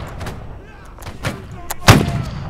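Gunfire in the multiplayer war game Holdfast: Nations at War, with a few muffled distant reports followed by one sharp, louder nearby shot late in the clip, over faint battlefield ambience.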